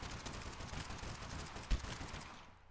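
Rapid gunfire rattles in the video game Totally Accurate Battlegrounds as a dense, continuous burst of shots with one sharper thump near the end, fairly loud throughout.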